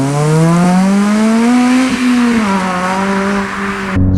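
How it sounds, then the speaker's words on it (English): A Honda Civic Type R FN fitted with a resonated COBRA sports exhaust revs hard in a loud, close flyby, its engine note climbing steadily and then dipping as it passes, ending with an abrupt cut. "We'll do some flybys and get some good sound on."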